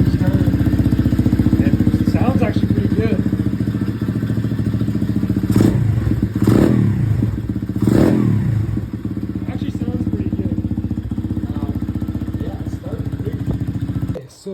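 A 125cc dirtbike engine, just repaired for a big oil leak, runs steadily after starting. It holds a loud, continuous idle that rises in a few brief revs and thuds near the middle.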